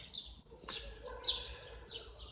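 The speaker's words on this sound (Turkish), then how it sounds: "İşte sabah zikrine başlayan kuşlar ve diğer canlılar." Birds chirp and tweet in short, high bursts every half second or so, faint and somewhat distant, against a quiet background.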